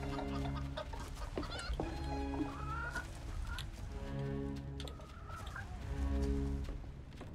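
A hen clucks repeatedly in short, close, fairly loud bursts over a steady tonal musical background, with no talking.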